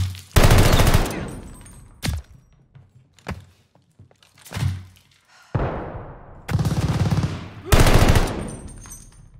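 Machine gun fire in the Call of Duty: Vanguard campaign, loud close bursts of automatic gunfire broken by short gaps and scattered thuds.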